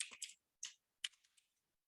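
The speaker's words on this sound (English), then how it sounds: "and I type in arm" A computer keyboard tapped in a few quick keystrokes, close and faint, with short gaps between the clicks and no talking.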